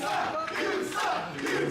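Wrestling crowd chanting in unison against wrestler Clay Wilson, a rhythmic, repeated group chant with rising and falling voices, moderately loud across the arena.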